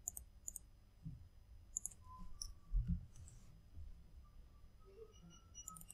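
Computer mouse clicks while working in a Penpot design app, a few sharp quiet clicks in short pairs and singles, near and alone in a hushed room.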